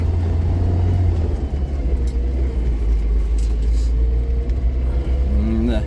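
A Lada Niva drives off-road over churned ground on Yokohama Geolandar A/T G015 tyres, a loud steady engine rumble from inside the car with some rattling and a short rising rev near the end.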